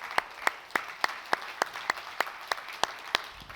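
Regular claps at a brisk, even pace sound over a low murmuring background, a group applauding together without voices.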